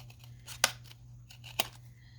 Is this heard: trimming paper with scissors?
yes